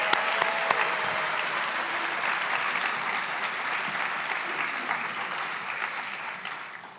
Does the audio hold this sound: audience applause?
yes